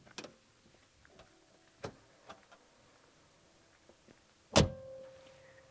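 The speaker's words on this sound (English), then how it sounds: "Never get tired of that door sound." A few faint clicks and ticks, then a single sharp, solid car door thunk from a Porsche 993 911 followed by a brief ringing tail.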